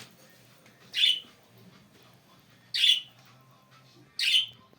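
Three loud, harsh squawks from cockatiels spaced a couple of seconds apart, each short and piercing, over a quiet outdoor background at feeding time.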